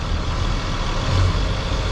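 A truck engine is held at about 1,000 RPM during an air brake test, giving a continuous, close, heavy droning hum with a slight swell midway and no talk.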